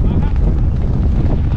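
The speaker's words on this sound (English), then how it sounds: "A little breezy today." Gusty wind at Dumont Dunes buffeting the microphone, a loud, constant low roar filling the short moment.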